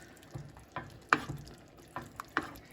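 Shrimp tossed in a pan for coconut shrimp curry, a series of soft scraping, clattering stirs spaced every half second or so, with a faint sizzle underneath and no talking.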